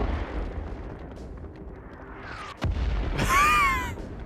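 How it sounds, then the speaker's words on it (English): Artillery strike explosions in World of Tanks: a quiet buildup, then a sharp crack followed by a louder rumbling blast with whistling, sweeping tones, close and alone without talk. "So one of the very best things about this artillery strike is that the actual projectiles are modeled as suitcases"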